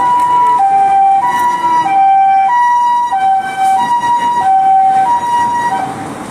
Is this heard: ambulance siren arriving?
yes